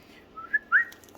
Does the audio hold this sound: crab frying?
no